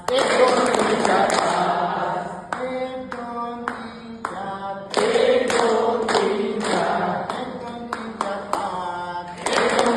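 Hand claps counted out in a Marathi children's number song, crisp and evenly spaced in short runs, beating along under steady sung voices.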